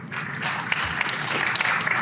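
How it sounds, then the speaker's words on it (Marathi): Steady applause from a press audience gathered for a launch event of a TV quiz show season, dense continuous clapping sustained at even loudness for the full two seconds, no voices over it. "आवडलं असतंय मग जबरदस्त टाळ्या व्हायलाच पाहिजे."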